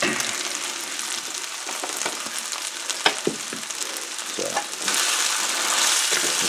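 Gnocchi browning in a frying pan, a loud, steady hissing sizzle close up, broken by a few sharp clacks and scrapes as they are moved around, with the hiss swelling near the end.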